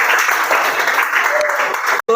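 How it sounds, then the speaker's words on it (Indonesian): Brief burst of classroom applause for a student group, steady clapping from many hands that cuts off abruptly, followed by a voice starting to speak. "Tepuk tangan untuk kelompok 4"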